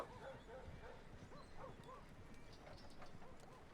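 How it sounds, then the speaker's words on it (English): A dog in the RedM video game gives short yips and whimpering barks, repeated in a quick irregular rhythm over a steady noisy background. "So if we want our dog to do something, so bark and growl"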